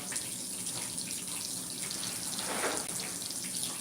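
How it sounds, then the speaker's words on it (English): Tap water runs steadily into a kitchen sink for hands being washed, a continuous close hiss and splash with no talking. "so I gotta wash my hands"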